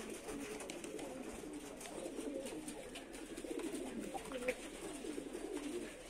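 Male pigeons coo softly on a roof, a faint, continuous murmur of low calls with soft background noise and no talk.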